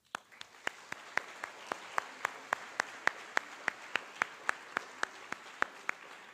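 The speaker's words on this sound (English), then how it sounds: "A big round of applause for a group that made such a successful fall musical." Steady rhythmic clapping at a high school fine arts awards event, honoring the fall musical group; sharp, evenly spaced claps stand out over a softer crowd of applause, moderately loud and without talk.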